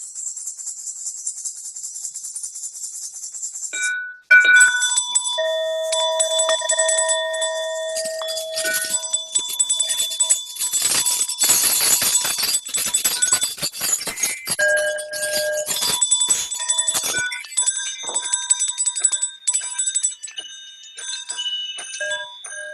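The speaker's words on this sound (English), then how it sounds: "if you have a bell, unmute yourself and ring it" Participants on an online call ring bells and chimes. Bright, ringing tones and glassy jingles overlap and decay across many sources, forming a dense, sustained shimmer with no talk.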